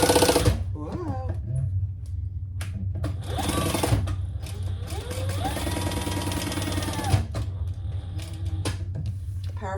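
A powerful sewing machine stitches around three sides of a small fabric wallet, its loud motor whirring in long steady runs with brief pauses between bursts of stitching, close up.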